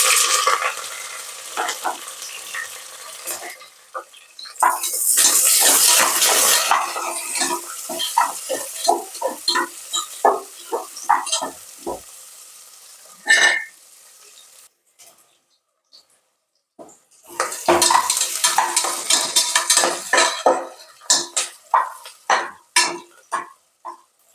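Onions and green chillies fry in a pot for mutton biryani, sizzling loudly in bursts while a utensil stirs and scrapes against the metal, with a quiet pause before another vigorous round of stirring.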